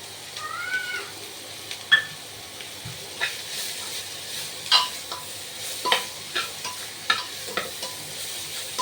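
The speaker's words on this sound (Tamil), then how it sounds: "நல்லா வெங்காயம் வதங்கி வரட்டும், வெயிட் பண்ணலாம்" Onions sautéing until brown for chicken biryani, with a steady soft sizzle under repeated scraping stirs of a spoon against the pan, close and moderately loud, with a few sharp squeaky clinks.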